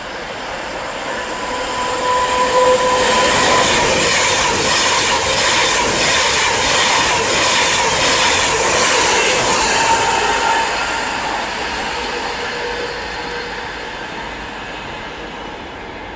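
A passenger train from Manchester Piccadilly to London Euston passes through Watford Junction on the West Coast Main Line. It builds to a loud, rushing roar with rhythmic wheel clatter, then fades as it recedes.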